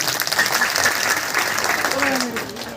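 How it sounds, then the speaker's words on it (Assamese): An audience claps at a folk performance anniversary celebration, a dense steady patter of many hands running throughout, with a voice speaking over it and a faint tone near the end. "নিজৰ কাৰণতে হাত চাপৰি মাৰক"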